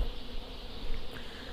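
Honey bees at an apiary during a late-season honey harvest, a steady, close, continuous buzzing hum of many insects with no speech.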